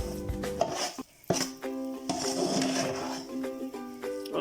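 Gram flour is stirred into semolina and desi ghee in a pan over a medium flame, with metal spoon scrapes and clinks against the pan and a brief pause between strokes, close and without speech.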